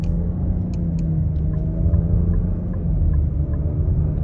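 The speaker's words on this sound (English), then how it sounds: "stepping back out into this multiple lane highway, real world acceleration, quarter throttle" A 2022 Nissan Rogue SV with the 1.5-litre turbo engine accelerates at quarter throttle on a multi-lane highway. Inside the cabin, a steady low engine drone and road rumble hold for several seconds.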